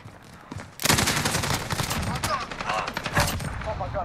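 STG77 bullpup rifle firing from the hip in Call of Duty Modern Warfare, a loud rapid burst of automatic gunfire that starts abruptly after a short quiet lead-in and rattles on almost continuously to the end.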